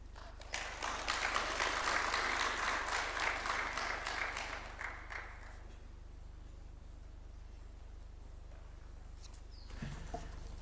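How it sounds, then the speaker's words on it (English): Applause from an audience at a Kenya-Japan development cooperation event at State House, Nairobi, after a speech. A steady crowd clapping lasts about five seconds, then fades to quiet room tone with a faint sound near the end. "Another round of applause, please, for her."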